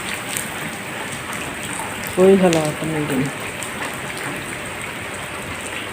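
Heavy rain pours in a steady, dense hiss throughout, with a voice briefly speaking over it partway through.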